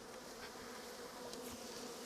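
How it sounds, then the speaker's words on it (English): A dense, steady drone of many bees buzzing together in a beeyard as they beard on a hive, continuous and fairly close, with no voices. "There's so many bees."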